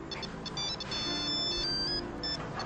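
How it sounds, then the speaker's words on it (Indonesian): A mobile phone ringtone plays a bright, repeating electronic melody with a steady beat, continuous and moderately loud, with no voices over it. "Tante, itu HP Fitri, Tante."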